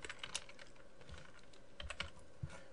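Quiet, irregular tapping of keys on a computer keyboard as a short word is typed, with soft clicks in small bursts and no voices.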